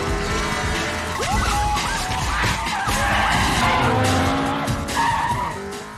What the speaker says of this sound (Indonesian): Puluhan mobil polisi terus melakukan pengejaran.